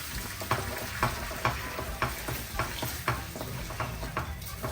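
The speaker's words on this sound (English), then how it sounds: "I am going to use a wooden spoon to mix this all up" Stuffed quahog filling for a Portuguese-style dish is stirred with a wooden spoon in a hot pan with olive oil, giving a soft continuous sizzle and a regular rhythm of scraping strokes about every half second.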